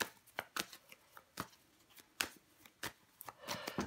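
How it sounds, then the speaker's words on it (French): A deck of tarot cards being shuffled in quiet, irregular bursts of crisp riffles and slaps, fairly close and soft, with no talking. "On va recouvrir des cartes pour vous les béliers."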